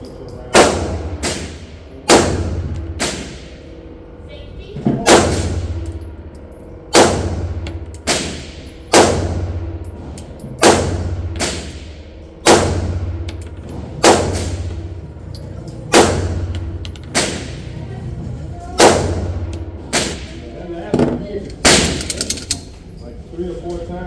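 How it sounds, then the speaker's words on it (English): Pistol shots from a Sig P365 XL with a new trigger fire one by one at an outdoor range, about a dozen sharp, loud reports at a steady pace with short pauses between them. "First rounds through the Sig with the new trigger."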